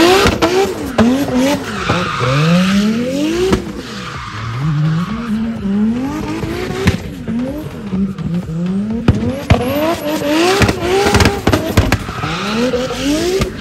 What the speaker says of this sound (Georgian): მოკლედ ახლა ჯიმხანა დაიწყება. ვნახოთ ვინ გაიმარჯვებს